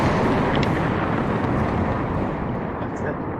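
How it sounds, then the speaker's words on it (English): A dense, continuous roar of rumbling, crashing noise, like explosions and thunder blended together, fills the whole moment and fades slightly toward the end. "It sounds like explosions, crashing thunder."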